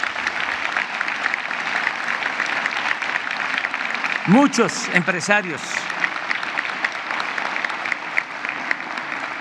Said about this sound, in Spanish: Un aplauso a los empresarios.